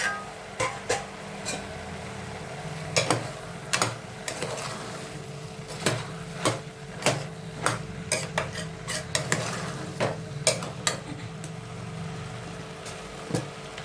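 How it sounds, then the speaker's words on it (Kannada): Vegetables for a kurma fry in a pan while a spoon stirs them, making irregular close scrapes and metallic clinks over a soft, steady sizzle. "ಸ್ವಲ್ಪ ಫ್ರೈ ಮಾಡ್ಕೊಳ್ಳೋಣ ಇದನ್ನು."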